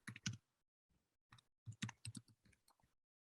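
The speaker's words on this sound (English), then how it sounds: "let me type this into the chat for everyone." Keystrokes on a computer keyboard in a quiet room, arriving in short irregular bursts of clicks with brief pauses between them, fairly close and clear with no talking.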